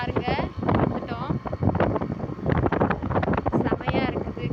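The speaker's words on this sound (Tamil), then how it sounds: "காற்று சூப்பராக இருக்குது." Wind gusts across the hilltop at Thirumoorthi Malai temple, buffeting the microphone in loud rushing bursts beneath continuous close talk.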